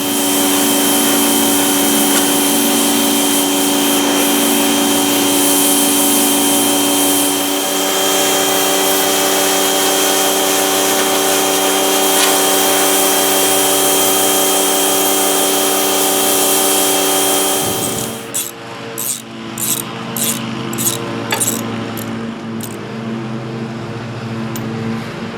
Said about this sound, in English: Maybe the pressure washer will take it all off, I hope.